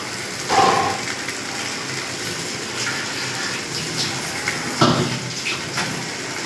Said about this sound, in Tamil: நம்ம குருமாவுக்கு தேவையான அளவுக்கு தண்ணி சேர்த்துக்கணும்